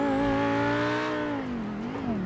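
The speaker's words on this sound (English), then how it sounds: "this is the maximum speed on the Huracan, guys. I mean, it is pretty good. I mean, it sounds really good, right?" A Lamborghini Huracan with a V10 engine in GTA 5 holds a loud, steady high-pitched drone at top speed, alone and close, with a slight pitch dip near the end.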